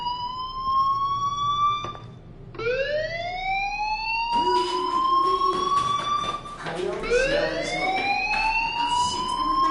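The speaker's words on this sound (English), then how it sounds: "Hey, do you hear that fire alarm?" A fire alarm in the video game Life is Strange wails in repeated rising, siren-like sweeps, loud and insistent, with brief breaks between cycles and a voice speaking over parts of it.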